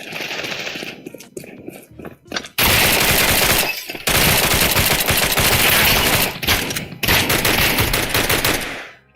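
Rapid bursts of video game rifle and shotgun fire, loud and close, crackling in dense volleys with short pauses between, the heaviest stretches running near continuously through the middle and final seconds.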